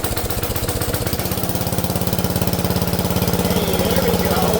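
A Wizard riding lawn mower engine from an auction runs with a little throttle, a loud, close, steady rapid thumping chug that holds a continuous rhythm throughout.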